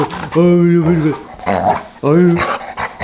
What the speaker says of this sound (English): the cat is harassing the dog right here